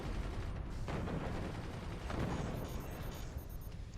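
Machine gun fire in a video game tournament match, a dense, continuous rattle of rapid shots with heavy low-end booms running the full length, loud and sustained with no clear pauses.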